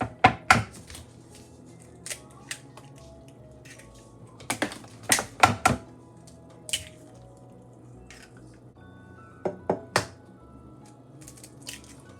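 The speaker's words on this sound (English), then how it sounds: "Okay, we crack the egg." Eggs are cracked into a bowl in a home kitchen while making egg-wrapped bread, with sharp, separate taps and cracks coming in small clusters against a quiet background.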